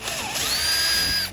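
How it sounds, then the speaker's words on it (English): A larger-diameter drill bit bores a clearance hole through a wood standoff, giving a steady, close whirring grind with a rising whine that runs for just over a second, then stops abruptly. "Then I do a clearance hole in the wood standoff with a larger diameter drill bit."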